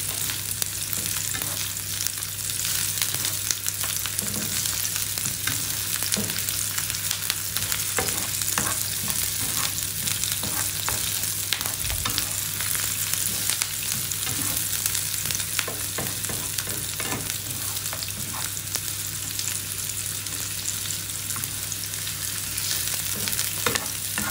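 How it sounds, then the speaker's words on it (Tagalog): Onion and garlic sautéing in a pan, a continuous close, loud sizzling and crackling frying hiss with occasional stirring scrapes throughout, with no talking. "Igisa lang natin siya"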